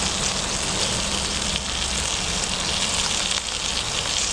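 Bacon sizzles on a Toaks titanium plate over a Fancee Feest stove with a simmer ring, a steady, dense crackling hiss that stays level and close throughout.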